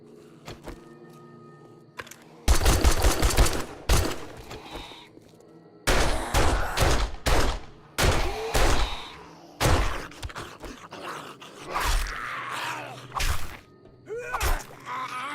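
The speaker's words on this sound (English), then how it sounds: "It is really nice to have that pistol. Now, whenever I down an enemy, I have the firepower to finish it off, you know?" Sharp pistol shots ring out in the survival game 7 Days to Die, coming in several loud bursts of single shots, with groans and the thuds of a fight between them.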